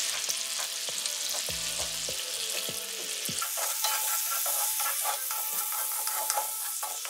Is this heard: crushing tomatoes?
yes